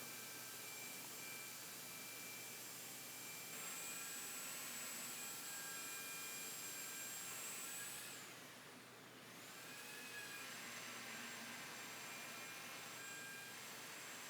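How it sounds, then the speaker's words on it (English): Power sander running on wood with a vacuum hose hooked up for dust extraction gives a steady, loud whooshing drone with a high whine that dips briefly midway before resuming. "You also notice I have a vacuum hooked up to my sander so that way the cut down on the dust."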